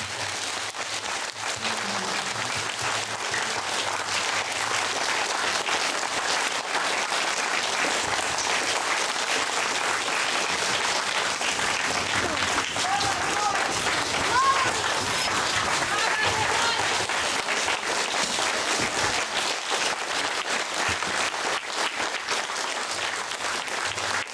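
An outdoor audience applauds mobilized soldiers of the first mobilization wave with continuous, vigorous clapping that holds steady throughout, with some voices mixed in.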